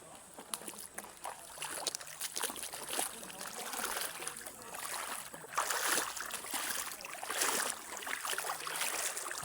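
Feet wade through a knee-deep river, with steady flowing water, splashes and sloshing close by throughout, outdoors on a countryside farm trip.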